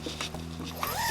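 A zipper runs along the rear screen door of a Winnebago Solis RV, giving short, close ratcheting strokes in a quiet interior.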